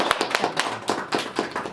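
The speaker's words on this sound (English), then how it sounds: "let's give him a big applause" An audience claps briefly, a short patter of hands tapping in quick, uneven rhythm at a modest level, heard close and without voices.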